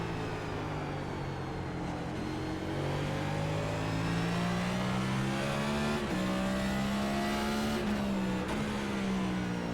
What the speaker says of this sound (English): Brad is doing his choppy throttle through the middle of the corner